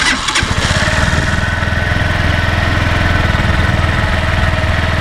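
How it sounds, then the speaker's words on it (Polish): A Barton Classic 125 motorcycle engine starts with a brief crank, then settles into a steady, loud idle with a fast, even throbbing rumble. "Odpalamy silnik. Niech się ładnie rozprowadzi."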